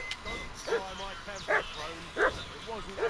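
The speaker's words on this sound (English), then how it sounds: "What's that dog making such a fuss about?" A dog in the video game Kingdom Come barks repeatedly in short, irregular yaps at moderate distance, some with whining tones, over a faint background.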